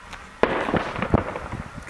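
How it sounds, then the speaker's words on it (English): Tear gas canisters and plastic bullets fired during a riot near a Palestinian village on a hillside, heard as sharp distant pops and cracks over a noisy outdoor background, with no talk. "You can hear the fire and tear gas canisters, plastic bullets, police, etc., army."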